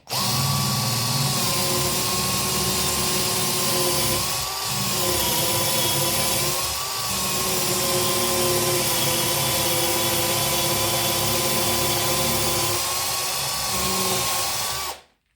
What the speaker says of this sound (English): Now let's try and drill on a 45 degrees just to check the performance.